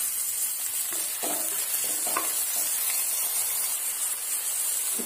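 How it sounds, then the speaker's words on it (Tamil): Tomato, onion and garlic sauté quietly in a pan with a soft, steady sizzle and hiss, punctuated by a few light stirring scrapes. "இப்போ தக்காளி வெங்காயம் பூண்டெல்லாம் இந்த அளவுக்கு வதங்கிடுச்சு."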